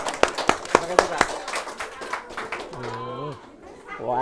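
An audience at a religious lecture gives a brief burst of rhythmic clapping, a handful of sharp claps that trail off, followed by someone talking.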